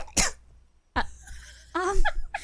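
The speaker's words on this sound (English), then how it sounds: "If you like it, cough twice." Two short, sharp coughs separated by a pause, followed by a brief burst of vocal sounds.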